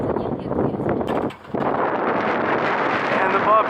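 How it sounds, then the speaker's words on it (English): Strong wind on a hilltop by a running chairlift in Przemyśl, Poland, buffets the microphone in a steady broadband rush, briefly dropping before gusting back up, with faint voices underneath. "It's super windy today"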